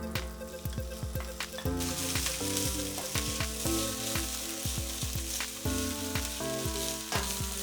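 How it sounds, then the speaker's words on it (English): Loud, steady sizzling of spice paste frying in hot oil in a pan on high heat, with intermittent stirring clatter and pops throughout, no voices. "So next we're gonna fry up our paste that we made before."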